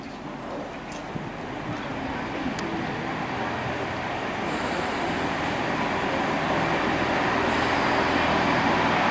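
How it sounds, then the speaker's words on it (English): A Great Western Railway train pulls out of Worcester Foregate Street station, heard from inside as a steady low rumble of wheels and engine that builds slowly. "We're now leaving Worcester Foregate Street Station on this Great Western Railway service"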